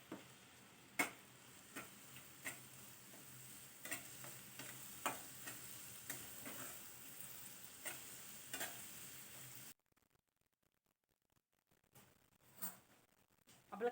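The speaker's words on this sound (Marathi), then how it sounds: "आपला पटकन कांदा भाजतो" Chopped onion with a little salt frying in a pan for egg masala sizzles softly up close, punctuated by regular sharp spoon taps and stirring; the sound drops out to near silence toward the end.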